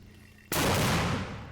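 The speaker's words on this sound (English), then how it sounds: "they're just about to send this mortar into enemy territory" A mortar round fired during combat in the battle for Marawi, Philippines: a single sudden loud blast that cuts in after quiet and rolls on as a dense, sustained roar without speech.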